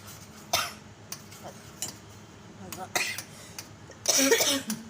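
Several sharp coughs at irregular intervals, with a bigger harsh burst near the end, over a low background hum.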